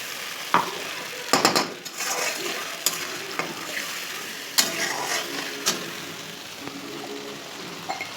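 Spices are stirred and fried in a pan, a low crackling sizzle broken by irregular loud clanks and scrapes of a metal spoon against the pan, close up with no talking.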